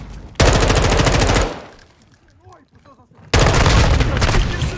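Bursts of automatic weapon fire from the video game Call of Duty MW2: a loud rapid stream, a quieter gap with faint game sounds, then another sustained burst, with no voices heard.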